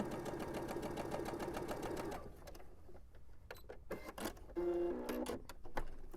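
A sewing machine with a quarter-inch foot runs a steady, fast mechanical stitching rhythm for about two seconds, then stops, leaving quieter handling clicks and rustles of fabric nearby.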